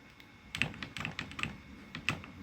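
Someone types on a computer keyboard while configuring a Cisco router: a short burst of separate clicky keystrokes at an uneven pace, close and quiet, with no talking.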